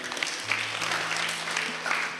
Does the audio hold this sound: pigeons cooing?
no